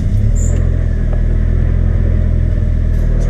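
A Suzuki X90 engine runs loud and close in neutral with a steady deep rumble and a slight rev near the start, no voices over it.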